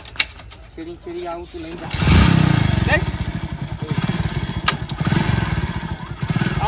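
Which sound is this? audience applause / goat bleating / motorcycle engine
motorcycle engine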